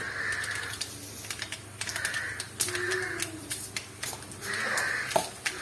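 A teaspoon of mustard seeds spits and crackles in hot sesame oil as tempering for a gooseberry pickle, a steady scatter of sharp close pops and clicks with no talking.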